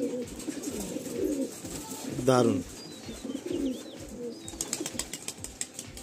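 Madrasi pigeons coo softly and rhythmically in a Kolkata loft, low throaty calls repeating near the microphone while someone speaks briefly and wings flutter.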